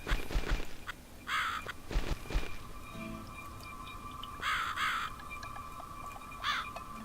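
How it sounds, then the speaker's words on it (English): A crow caws in The Cat Lady video game, a few short harsh calls in separate bursts over a low ambient hum, mixed with some thuds, no talking. "There's a crow flying all around."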